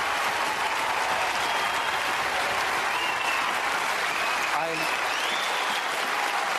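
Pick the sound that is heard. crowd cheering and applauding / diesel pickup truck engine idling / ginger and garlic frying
crowd cheering and applauding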